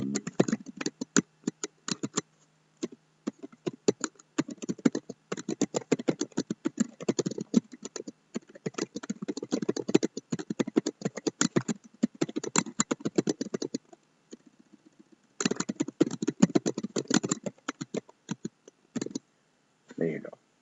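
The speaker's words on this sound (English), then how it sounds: "I'm really big on keyboard shortcuts, so you'll hear me using keyboard shortcuts." Steady, rapid typing on a computer keyboard, clicks in quick bursts with a short pause before resuming; a voice talks faintly underneath.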